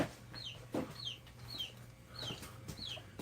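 Chickens cluck at a cabin site in the woods, about five rising calls at a steady pace over a low background hum, moderately distant and fairly soft.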